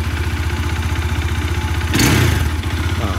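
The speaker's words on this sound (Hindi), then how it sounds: "बाइक आवाज़ तो डेफिनेटली बदली है, बाइक की काफ़ी कम हो गई है नॉइज।" A Bajaj Dominar motorcycle engine, freshly serviced with new engine oil and air filter, idles with a steady low thumping beat, then briefly revs with a louder surge before settling back to a smooth idle, close by and alone.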